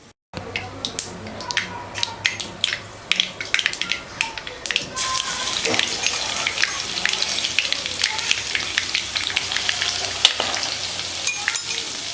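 Mustard seeds and cumin crackle and sizzle in hot oil for moong curry, a dense steady frying hiss broken by sharp popping bursts, close and loud, growing busier after a quiet start.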